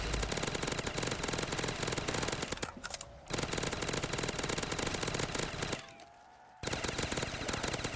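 Sustained rapid automatic gunfire from a WA 2000 rifle in a video game, loud and dense, with two brief pauses breaking the stream of shots.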